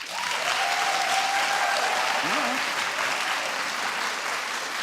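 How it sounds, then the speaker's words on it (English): A studio audience claps steadily and loudly throughout at a comedy show, a dense, even wash of applause with a brief voice calling out over it. "Clap if you'd love to see a sequel."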